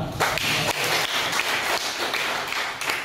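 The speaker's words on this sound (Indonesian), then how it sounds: "Tepuk tangan agen Karang Taruna." Audience clapping at a Karang Taruna youth organisation meeting in Indonesia, a dense burst of sharp claps that runs steadily for about three seconds at close range.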